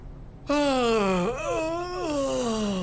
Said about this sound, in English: I had to yawn.